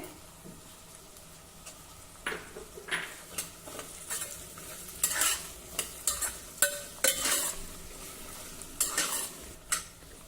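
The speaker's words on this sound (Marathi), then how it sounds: "मंद गॅसवर ह्या सर्व भाज्या आता आपण परतून घेऊ बटाटा कांदा फरसबी" Potato, onion and green beans sautéing in a pan over low heat with ginger-garlic paste, a continuous sizzle under repeated metal spoon scrapes that grow busier and louder midway, close up and with no voices.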